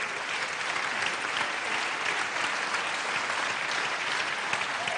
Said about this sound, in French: on profite des applaudissements